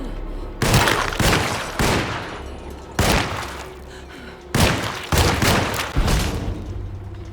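Repeated heavy gunshots in the Alone in the Dark video game, about eight booming blasts spaced irregularly half a second to a second apart, loud and close with thudding low-end reverb.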